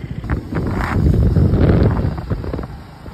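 Strong wind roars and buffets the microphone during a motorbike ride from Chennai to Krishnagiri, a loud continuous rushing that swells and fades with gusts over a few seconds.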